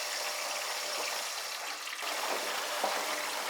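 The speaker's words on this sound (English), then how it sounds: "It's taken on more water." Water runs into a Dyson Contrarotator CR01 washing machine as it fills for the rinse, a steady, muffled rushing flow at moderate level with a slight shift midway and no talk.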